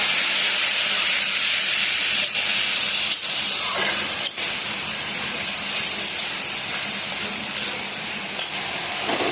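Water poured onto cumin paste frying in a pan for a hilsa fish curry sets off a loud, continuous steamy hiss and sizzle, with a few sharp stirring scrapes and no talking.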